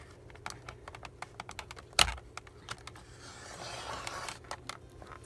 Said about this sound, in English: I'm going to go ahead and cut this, and this is the Recollections cutter.